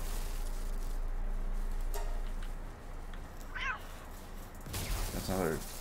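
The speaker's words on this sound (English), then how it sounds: "That's another electric cat." An electric cat creature in Palworld meows with short rising calls over steady game ambience and background music, followed by a louder burst of cries near the end.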